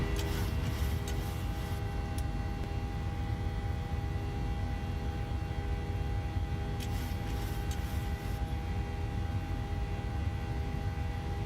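A steady, loud drone from a simulated airplane engine in a flight simulator game fills the whole stretch, constant and unbroken, with a couple of faint ticking clicks on top.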